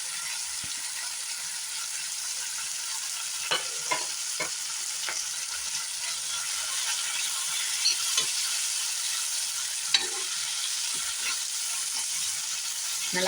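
Mashed potato being stirred into a capsicum gravy in a hot pan, a continuous gentle sizzle broken by repeated scraping and clinking of the spoon against the pan, close up with no voices.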